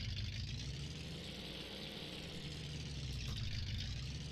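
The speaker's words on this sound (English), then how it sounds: "I just love how this truck sounds." An old truck engine idles in Farming Simulator 19, a steady low rumble with a constant mid-frequency drone, quiet and even, with no voices.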